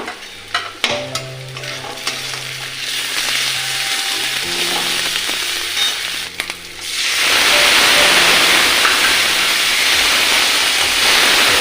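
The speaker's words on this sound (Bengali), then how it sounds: "চাল মশলা আমার কষানো হয়ে গেছে" Rice fries in a pan with turmeric, chili powder, green chili paste, cumin and ginger while being stirred. Clattering stirring over a tonal hum gives way to a loud, steady, close sizzle.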